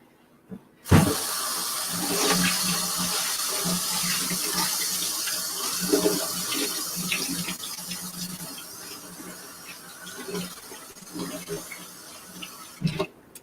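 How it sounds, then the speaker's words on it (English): A kitchen tap gushes on abruptly and runs steadily while something is rinsed out beneath it, the splashing shifting as the item moves under the stream, with faint clinks near the end. "I'm immediately rinsing that out so that I don't have that stuck on there."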